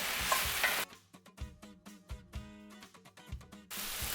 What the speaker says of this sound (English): we're going to add in however many mushrooms you want